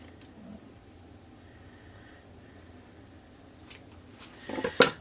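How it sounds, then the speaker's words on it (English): Scissors snip through a sock, a few quiet cuts near the end rising out of a faint, near-silent room. "so I'm going to cut it off."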